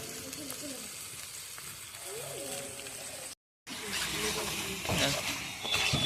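Meat and potatoes sautéing in oil in a pan over a home clay stove, a steady close sizzle with occasional stirring scrapes, briefly cut out midway, while people talk over it.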